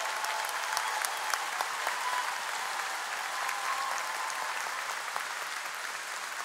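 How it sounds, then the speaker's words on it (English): A school district employee convocation audience applauds past grant winners with sustained, even hand clapping from a large crowd, steady and loud throughout, with no talk over it. "Round of applause."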